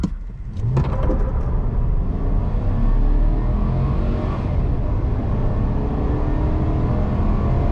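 A Chevrolet Silverado Custom Trail Boss 4x4 launching hard from a stop with brief tire spin, followed by a loud, sustained engine roar building steadily from inside the cab.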